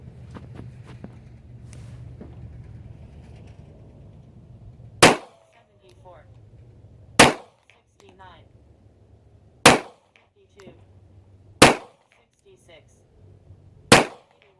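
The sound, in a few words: gunshots from a pistol firing Federal Syntech TSJ bullets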